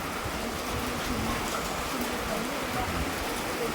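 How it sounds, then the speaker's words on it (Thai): Steady rainfall after a storm, with rainwater running and dripping, a soft continuous hiss of drops at moderate distance with no clear voices. "ไม่มีอะไรคืบหน้านอกจากน้ำฝนและเม็ดฝนที่ไหลอยู่อย่างนี้"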